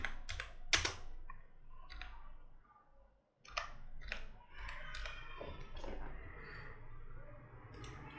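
Keyboard keys tapped in short bursts while designing in Photoshop, with quick clicks at the start and a steadier run of typing later, close and moderately loud over a low background hum.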